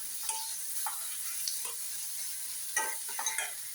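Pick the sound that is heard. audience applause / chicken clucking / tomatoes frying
tomatoes frying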